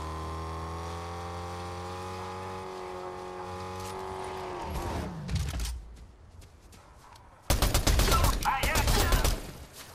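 Gunfire from shooting bots in Fortnite, first a rising engine-like whine that cuts out, then a dense, loud burst of rapid shots near the end, close and harsh.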